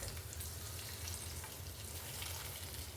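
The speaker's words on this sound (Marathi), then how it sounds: "आवाज ऐकलात ना फोडणीचा" Tempering for curd rice sizzles steadily in hot oil, a continuous bright hiss with a low rumble beneath, close and even throughout with no talk.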